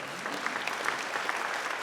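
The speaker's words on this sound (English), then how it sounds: "Yeah, clap that up again, Miss Angie." An audience clapping at a ribbon-cutting ceremony for a youth basketball center, a brief, steady burst of applause from a moderately sized crowd, heard on its own.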